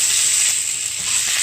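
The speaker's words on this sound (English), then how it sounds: "let's give this a stir" Cabbage, taco seasoning and chili powder sizzling in a low-carb skillet as it is stirred, a brief, loud, steady hiss close by.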